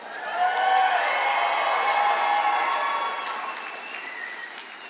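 An audience at a college agriculture convocation breaks into sustained applause, a dense wash of many hands clapping that swells quickly and then slowly tapers off, with faint cheering mixed in.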